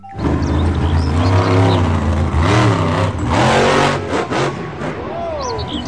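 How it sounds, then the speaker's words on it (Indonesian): Engine revving from a toy monster truck, a loud, continuous buzzing drone with rising and falling pitch sweeps throughout, alone with no talk. "Mobil truk monster."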